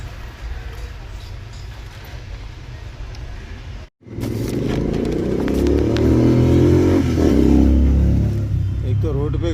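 Road traffic passes in a busy street, a steady rumbling wash of engines that swells louder after a brief cut, with vehicles revving and roaring by nearby.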